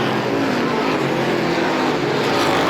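Race car number 22 roars around a short oval speedway, a loud continuous engine drone with a steady pitch, close and dominant, no voices over it.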